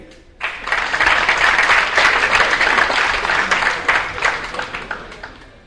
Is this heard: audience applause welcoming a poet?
yes